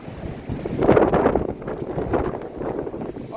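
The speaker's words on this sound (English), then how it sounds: "Okay, that was a solid 50-mile-per-hour wind gust right there." A strong wind gust in a heavy thunderstorm tears through a backyard with trees and a fence, a loud, rushing broadband roar that swells after the first second and keeps buffeting the microphone to the end.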